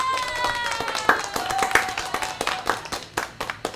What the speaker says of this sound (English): we got the applause.